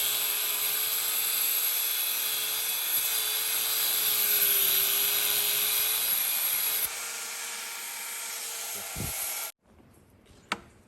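A power tool grinds through the bearing ring on a Ford 8 inch rear axle, a steady whining cut that holds for several seconds, drops in level, then stops abruptly, leaving a few faint clanks.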